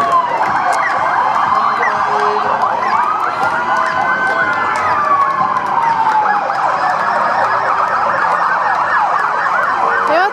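Fire engine sirens wail and sweep up and down as the trucks pass along a street during a gay pride parade in the USA, loud and continuous over a busy crowd murmur.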